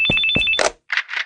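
A telephone rings with a bright electronic trill, two quick ring bursts followed by short chirping tones, clear and close.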